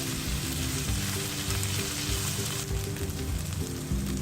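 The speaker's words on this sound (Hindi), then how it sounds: "इनको अच्छी तरह से सौते करें, इनको रेड नहीं करना, सिर्फ इनको ट्रांसपेरेंट होने तक पकाना है हमें" Chopped onions sauté in a pan for bhindi masala, a continuous close sizzle with faint stirring, while steady musical tones play underneath.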